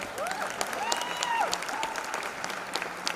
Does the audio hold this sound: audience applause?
yes